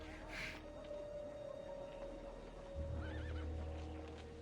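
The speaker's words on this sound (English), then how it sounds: "The sound of horse hooves behind you." Horse hooves approaching from behind, with a horse neighing and clip-clopping in a distant, faint scene under a low steady hum.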